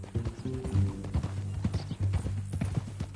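Horse hooves from the Red Dead Redemption 2 game clip-clop in a steady, fairly close rhythm, mixed with low game ambience and an occasional snort.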